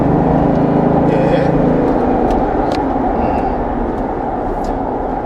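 A Kia Mohave 3.0 driven in sport mode gives a loud, steady engine drone with road rumble from inside the cabin, easing slightly toward the end.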